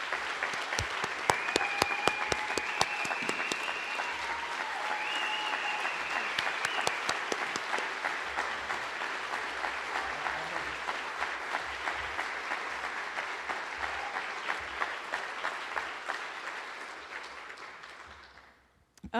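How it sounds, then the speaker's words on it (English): A hall audience gives sustained, hearty applause at an award presentation, dense clapping continuing for many seconds before thinning out and stopping. "I'd like to have you all give her a hearty applause for all she's done."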